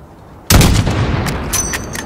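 Sniper rifle fired in Call of Duty Modern Warfare at a target 600 meters away: a single sharp, loud shot after a brief quiet, followed by a long rumbling echo and faint distant crackle.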